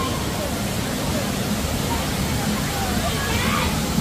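Steady broadband rush of water pouring down at Taytay Falls in Majayjay, Laguna, a continuous close roar filling the whole clip with faint crowd murmur beneath it.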